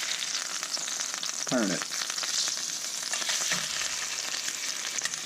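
Delmonico steak pan-searing in garlic and butter, a loud, steady sizzle and fry with crackling pops throughout, a brief voice speaking over it near the start.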